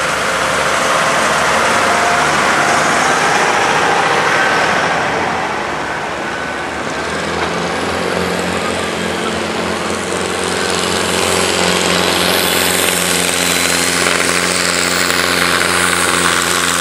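A tractor pulling competition tractor with an unusual build roars down the track at a trekkertrek event in Oudehorne, a loud, steady engine drone with low harmonic hum throughout, swelling slightly as it runs.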